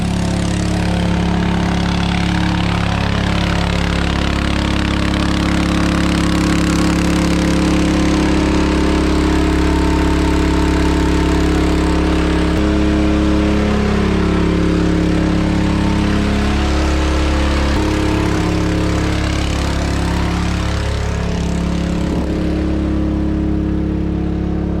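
Gas engines run continuously in a maple sugarbush, a steady loud droning hum with slight shifts in pitch and no breaks or talk.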